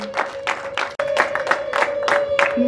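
Wedding guests clap in short repeated bursts, a crowd's applause rising and falling in waves over a steady tonal hum, fairly close and loud.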